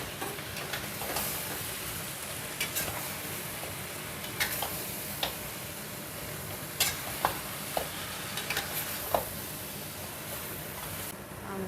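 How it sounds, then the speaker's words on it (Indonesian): Beef stir-fried in a pan until fragrant, a low continuous sizzle with scattered sharp clicks and scrapes of the spatula, fairly quiet and close, no voices. "Ini dioseng sampai harum ya teman-teman. Daging sapinya masuk."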